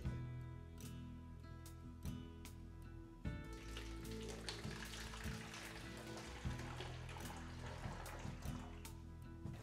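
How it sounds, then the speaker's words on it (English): Cooled homebrew wort pours steadily through a funnel into a plastic bottle, a continuous close liquid splash and gurgle with faint rhythmic thumps underneath. "Cool the wort to room temperature, and then using the funnel, transfer it into the bottle."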